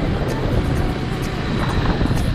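A steady, loud aircraft engine roar, heard as if from inside a plane, with a low rumble throughout.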